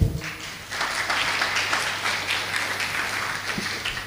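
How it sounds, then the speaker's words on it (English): An audience applauds a speaker at an international conference on herbs and toxicants, a sustained wash of clapping from a hall crowd that starts at once and holds steady. "Applause for Dr."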